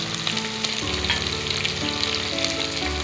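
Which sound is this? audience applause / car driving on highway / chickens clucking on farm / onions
onions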